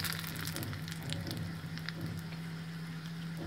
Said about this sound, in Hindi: बहुत ही अच्छा तड़का लग गया